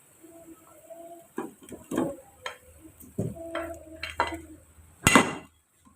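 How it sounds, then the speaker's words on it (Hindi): Pasta is stirred and mixed in a pan, giving a series of close, irregular scraping and clinking knocks of a utensil against the pan, with a sharper clatter near the end. "ये देखिए हमने पास्ता इसमें शामिल करके इसको अच्छे तरीके से जो है वो मिक्स कर लेना है।"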